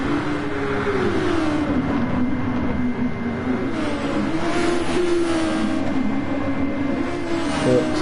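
Engines of Stone Age cars in a racing video game drone steadily and loudly as the cars run close together, a continuous engine roar with slight pitch shifts and no speech.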